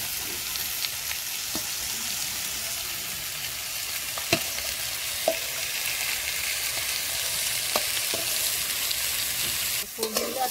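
Chopped tomato and pre-fried pointed gourd sizzle steadily in a hot pan, a dense even frying hiss with occasional sharp clicks of a spatula stirring, close and continuous throughout.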